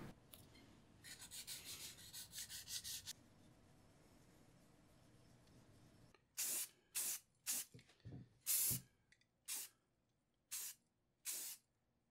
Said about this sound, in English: So I am going to use the Krylon Crystal Clear as a top coat.